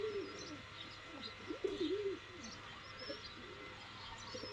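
Slaty pigeons coo repeatedly in low, rolling phrases, with faint chirps from other birds higher up, at a steady moderate level with no talking.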